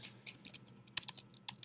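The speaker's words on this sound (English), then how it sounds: "I see some people typing." Several people typing on computer keyboards in a robotics class while code is being written, with scattered key clicks and small bursts of keystrokes at a moderate distance and no talking.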